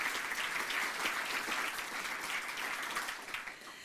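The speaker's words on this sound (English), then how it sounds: "So please give them a great round of applause." An audience at the AASHTO Washington Briefing 2020 claps in a full, sustained round of applause that fades toward the end, with no talking over it.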